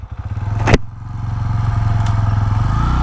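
Bajaj Pulsar N125 motorcycle restarting through its ISG auto start: an idling thump, a sharp click-whir of the starter, then the engine settling into a steady close, pulsing idle.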